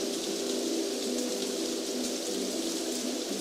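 Steady rain falls in a dense, even hiss that continues throughout, with no voices over it.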